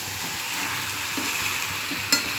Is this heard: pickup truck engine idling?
no